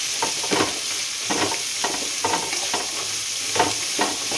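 Carrot and green chillies sautéed with salt in a pan, a steady sizzle broken by rhythmic stirring scrapes of a spoon about every half second, close up.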